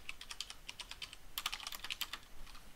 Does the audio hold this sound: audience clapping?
no